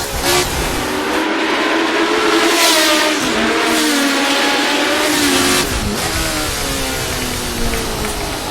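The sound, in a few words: 1970 Grand Prix car engine racing in Assetto Corsa video game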